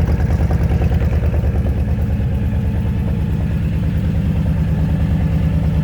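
A Honda Fury motorcycle idles unevenly close by, a steady loud rumble with a faintly irregular pulsing beat and no voices over it.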